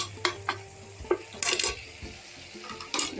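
Spices stirred in a cooking pan for sambar rice, with a spoon scraping and clinking against the metal in irregular strokes over a soft sizzle, close and moderately quiet.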